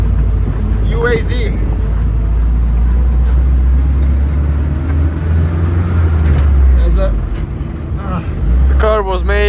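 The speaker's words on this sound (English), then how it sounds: "So you can see it's pretty loud and pretty old." A loud, rough engine of a 1989 UAZ-469 military off-road vehicle idles and rumbles steadily, with a person talking over it throughout.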